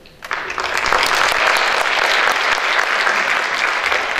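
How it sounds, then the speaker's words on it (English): An audience at a live stage show breaks into applause, building quickly from quiet into a loud, dense, sustained wash of clapping that holds steady to the end. "It's a good thing you're clapping"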